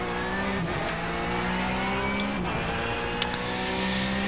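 A Porsche 911 GT3 Cup race car drives at Suzuka in iRacing, its engine a steady, close, high-revving drone with brief dips in pitch at gear changes, with no voices over it.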